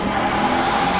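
A fast car engine from the racing game Forza Horizon 4 gives a brief, steady mid-pitched drone, loud and unbroken with no voices.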